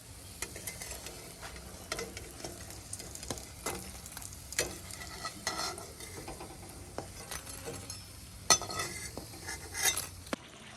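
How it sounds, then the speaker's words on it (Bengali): Pennywort leaf fritters fry in a pan with a soft, continuous sizzle, broken by scattered clicks and scrapes of a utensil against the pan. "থানকুনি পাতার বড়া ভাজা হয়ে গেছে,"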